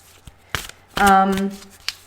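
Quick papery riffles and snaps of cards being shuffled, close up, with a brief voice sound mixed in partway through.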